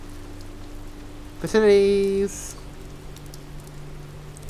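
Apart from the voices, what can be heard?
rain starting to fall, in the video game Oxenfree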